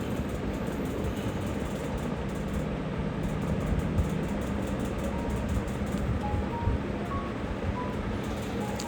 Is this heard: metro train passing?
yes